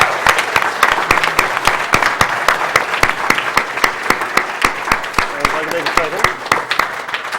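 An audience applauds in a hall with a steady, lively mix of many hands clapping, sharp individual claps standing out over the dense crowd sound and a voice faintly underneath.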